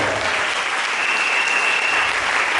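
A church congregation applauds at an Easter service, a dense and steady wash of clapping that fills the space evenly from start to finish with no voices standing out.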